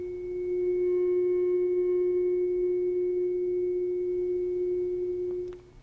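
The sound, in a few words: tuning fork ringing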